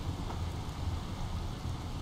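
Steady rain hiss in the video game I Remember The Rain, a dense continuous patter with a low rumbling undertone, even and unbroken.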